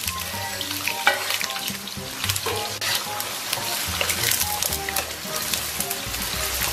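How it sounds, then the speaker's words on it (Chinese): Scallion, ginger and garlic sizzle in hot oil in a wok, a dense continuous frying crackle with occasional stirring clatter and no talking. "咱们给锅里边稍微来点油，油温微微热啊，咱们把葱姜蒜给它下里边"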